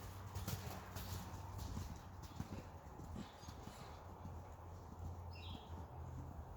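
A horse cantering loosely around an arena during a riding lesson, its hoofbeats a soft, steady rhythmic thudding heard at a moderate distance over a constant background hum.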